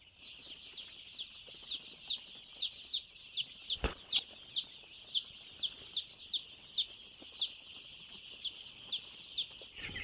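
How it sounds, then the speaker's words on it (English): Young meat chickens cheep and cluck in a rapid, continuous chorus of high chirps while brooding, with a soft thump partway through. "we're already using them to brood our little meat birds, our meat chickens here."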